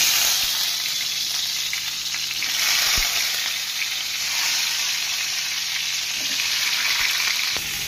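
Pointed gourd (potol) pieces frying in hot oil, a dense, even, bright sizzle close by with a couple of sharp clicks, unbroken and without speech.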